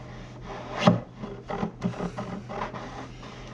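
Wood rubs and rasps in short, uneven strokes as a wooden dowel is worked into wood, a few sharper knocks mixed in, close by with no talking.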